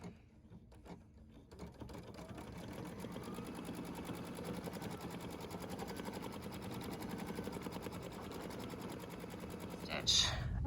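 An embroidery sewing machine stitches out a design on a pet stocking, running steadily and fairly quietly with a fast mechanical rhythm for most of the stretch, building slightly toward the end.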